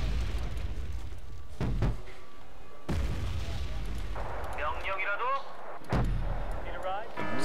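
Artillery fire in the war strategy game Wargame Red Dragon, loud booming blasts and rumbling impacts one after another over continuous battlefield noise, with a voice heard at moments.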